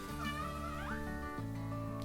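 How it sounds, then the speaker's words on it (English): A male cat close by lets out a drawn-out, rising meow over a steady low hum, then goes quiet with no talking. "my cat is sleeping right here and he decided to chip in into this video"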